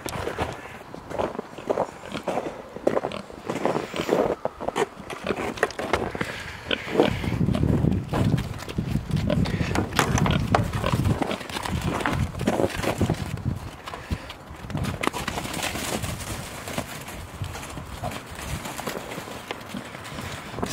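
Pigs released from their pen onto a farm pasture, running over the ground: a long run of quick, irregular hoof clatter and footsteps, fairly close and steady, with livestock bustle and no speech.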